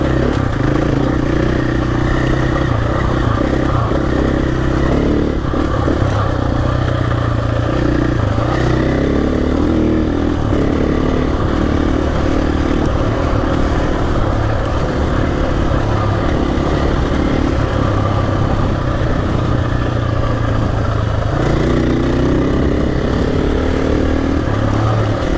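A heavily fuel-laden KTM 500 motorcycle on adventure tyres rides off-road on a Cape York track, its engine droning loud and continuous with steady rumble and clatter throughout, close to the rider.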